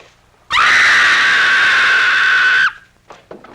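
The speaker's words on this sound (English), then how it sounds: "That was a scream" A woman lets out one long, loud, sustained scream lasting about two seconds, breaking off sharply, followed by a few faint rustles.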